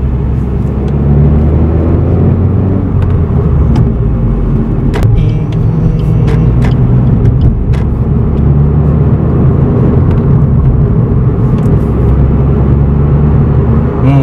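A Suzuki Swift Sport with a six-speed manual transmission being driven, heard from inside the cabin as a loud, steady engine drone and road rumble, with a few brief clicks and no talk.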